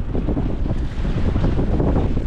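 Strong wind, about 32 knots, buffets the microphone in a steady, loud low roar, with the rush of a moving boat and water beneath it near Coron.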